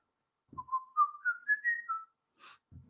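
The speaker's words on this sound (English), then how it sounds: "I can do the whistle." A person whistles a short rising melodic phrase of several connected notes, clear and close, followed by a brief breathy burst and a low murmur.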